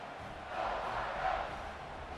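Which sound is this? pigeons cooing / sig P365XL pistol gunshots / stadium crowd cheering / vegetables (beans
stadium crowd cheering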